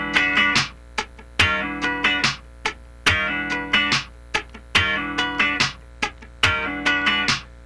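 Funk rhythm guitar with the fretting hand sliding and the strumming hand scratching across all the strings, played alone in tight rhythmic bursts of choppy, percussive strums that repeat in short phrases with brief gaps.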